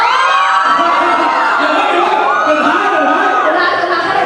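A large crowd cheers at a Point Blank esports championship event in Thailand in 2014, a loud continuous wash of shouting, whooping and chatter that fills the whole stretch.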